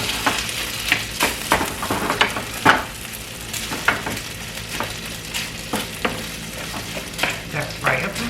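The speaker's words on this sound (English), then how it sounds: "I am frying the rice." Rice fries in olive oil in a pan for fried rice, giving a continuous sizzle broken by repeated scraping and stirring strokes of a utensil, close and fairly loud with no talking.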